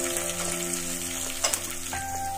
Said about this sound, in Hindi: अब हम इसमें डालेंगे राई और जीरा